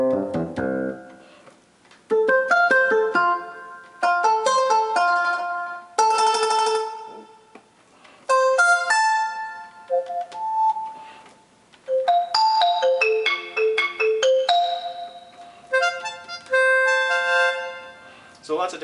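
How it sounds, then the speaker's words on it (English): A Roland FR-18 digital diatonic accordion plays a plucked banjo voice, a bright twangy run of short picked notes in quick melodic phrases, close and clear with no talking. "So I can really pluck on it. Kind of a banjo sound."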